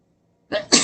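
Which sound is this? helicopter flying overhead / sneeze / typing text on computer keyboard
sneeze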